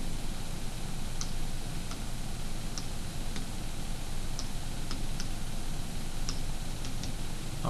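Keys pressed on a graphing calculator while entering list values: sparse, faint, crisp clicks spaced irregularly, sitting under a steady hiss of background noise, with no talking.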